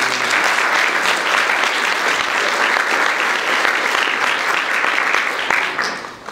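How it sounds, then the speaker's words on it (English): Sustained audience applause fills a room at a regional center legislative breakfast, a dense, steady wash of many hands clapping close by, tapering off toward the end. "Let's give a round of applause."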